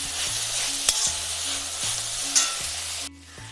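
Onions, curry leaves and coconut pieces sautéing in a pan, a loud dense sizzle with a few spoon scrapes and a low repeating hum, cutting off abruptly near the end, no speech.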